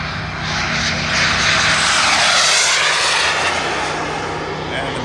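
A pair of large radio-controlled scale F9F jet models flies overhead at an airfield, a loud sustained whooshing engine roar that swells and fades slightly, with a voice talking over it.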